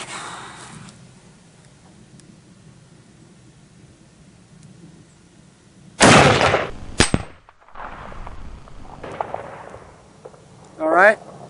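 A rifle fires a 180 grain soft nose bullet at a steel target downrange: one sharp, loud crack stands out against quiet outdoor background, followed by further bursts and a person talking.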